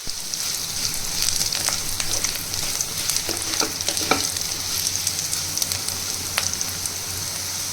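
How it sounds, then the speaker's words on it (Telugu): Onions frying in a pan for tomato rasam, a close, steady crackling sizzle with bursts of spattering pops and occasional stirring clicks, no one speaking. "ఉల్లిపాయలు కూడా చక్కగా వేగిపోయాయండి"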